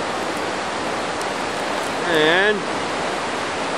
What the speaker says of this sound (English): looks like we've still got some washout water running